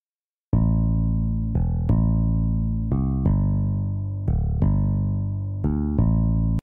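An FL Studio synth imitating an analog bass plays a boom bap bass line, a run of deep, sustained, tonal notes starting after a short silence, loud and alone.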